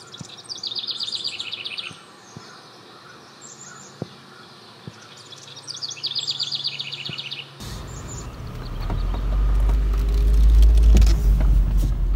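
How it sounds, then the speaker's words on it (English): Thin high chirps of a ruby-throated hummingbird and a bubbly house wren song trill over quiet background in a bog, with scattered clicks, then a passing car swells up and drowns the birds. "I hear a ruby-throated hummingbird and a house wren."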